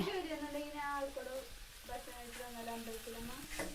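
Onions frying in a pan with a soft sizzle and occasional stirring, while someone talks and a voice comes in over the cooking.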